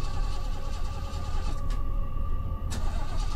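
A car engine cranks and struggles to start inside a horror video game, a steady mechanical churning that runs throughout, with a couple of sharp brief bursts near the end.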